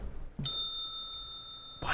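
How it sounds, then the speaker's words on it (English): A single bright bell ding rings out during a hacker trivia game, a clean sustained tone that lingers for over a second before fading, with faint room noise around it. "A bell."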